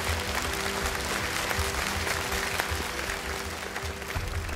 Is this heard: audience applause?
yes